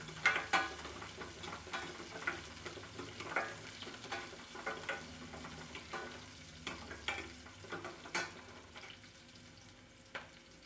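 Onion frying in a pan with masala stirred in, a low steady sizzle broken by frequent scraping stirs and clinks of a spoon, fairly quiet and close, with no talk.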